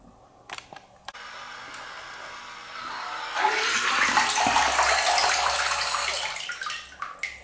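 Water sprays and churns from a Zuru Robo Alive great white shark toy as it spits water out through its fins, a steady hissing splash building loudly after a few quieter clicks, with no talk.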